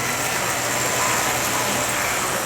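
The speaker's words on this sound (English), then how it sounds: "Now we will see how fast the train can go with only one engine." A 1953 American Flyer diesel toy train runs on its track pulled by a single engine, giving off a steady, even motor whir and rumble with no voices over it.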